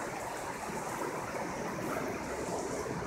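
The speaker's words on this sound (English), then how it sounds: "We're making our way along this river." Constant rushing of a river flowing beside a hiking trail on the way to waterfalls, a soft, even wash of water noise with no voices.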